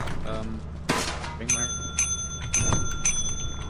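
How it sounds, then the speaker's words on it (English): A bell in the video game Lethal Company, rung to sell collected loot, chimes about four times in quick succession with bright ringing tones, while players talk over it. "you ring the bell to sell things."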